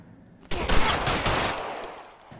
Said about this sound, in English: He's just blind firing.